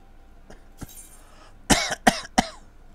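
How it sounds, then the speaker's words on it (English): A person coughs in a short close burst, with one lighter cough followed by three harsh, loud coughs in quick succession against a quiet background. "Excuse me for all the coughing."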